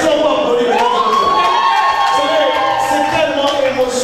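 Wedding guests at a civil ceremony clapping, cheering and whooping together, a lively crowd with excited voices and shouts rising over the applause.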